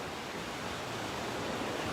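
Steady ocean waves wash continuously over water, a soft, even broadband rush with no distinct breaks and no voices.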